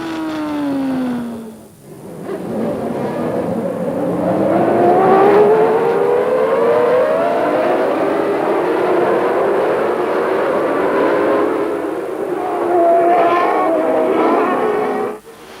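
Formula 1 McLaren and Ferrari cars from 1993 race wheel to wheel, high-revving engines whining and rising in pitch through gear changes, loud and close with a passing car sweeping by early on.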